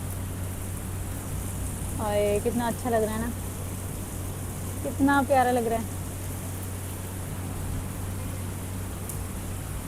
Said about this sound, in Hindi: ये पहली बार है जो इतनी तेज़ बारिश हुई है